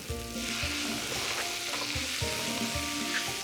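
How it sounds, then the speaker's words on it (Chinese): Shredded flatbread with dark soy sauce stir-fried in a hot pan using chopsticks and a spatula: steady close sizzling with regular scraping and tossing strokes throughout, no talking. "咱们拿筷子跟铲子配合的炒一下，这样会很方便。"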